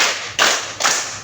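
Group hand clapping in a counted clapping game at a junior high school, two sharp, loud collective claps with a ragged smeared edge from many hands not quite in unison.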